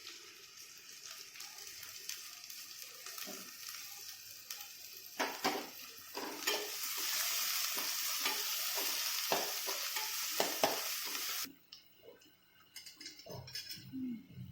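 Garlic and green chillies sauté in a pan for Tamil egg rice, first as a light sizzle, then a loud, dense frying hiss with stirring scrapes, before dropping back to quieter crackles and a few utensil knocks near the end.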